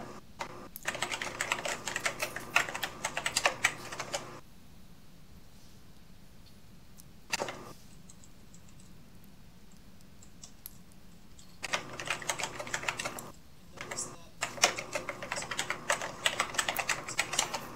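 Bursts of rapid keyboard typing in a virtual world chat, loud clattering runs at the start and end with a quiet pause and a brief burst in the middle, no voices.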